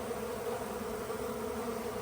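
Honeybees buzz in a hive during a rescue in Kaneohe, Hawaii, a faint, continuous droning hum with no break across the whole moment.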